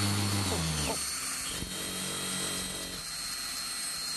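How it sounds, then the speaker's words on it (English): A power drill bores a hole straight through a piece for a DIY bottle opener, starting with a brief higher whine, then settling into a steady nearby grinding hum that keeps running. "So the first hole we're going to drill is all the way through."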